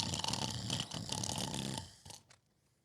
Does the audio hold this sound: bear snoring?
yes